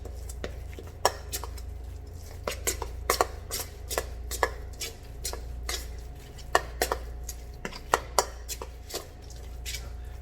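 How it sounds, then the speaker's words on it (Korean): A utensil clinks and scrapes against a bowl in an irregular series of sharp taps while kimchi is stirred with green onion, garlic and seasoning, over a low steady hum. "파와 마늘 그리고 양념이 잘 어울리게 잘 저어주시고"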